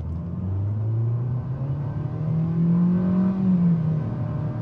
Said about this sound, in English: we're gonna do 0-60 just from a dead stop, flat footing it, so not brake torquing